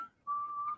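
A person whistles over a video call: one short note, a brief pause, then a longer sustained steady whistled tone, thin and fairly faint as heard through the call.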